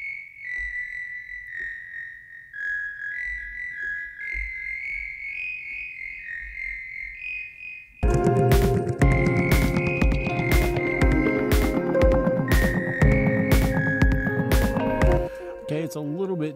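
A synthesizer sound-design patch run through a Stiletto resonator starts as a wavering, detuned tonal drone, then abruptly thickens into a dense, distorted, buzzing texture with rapid rhythmic pulses that runs to the end.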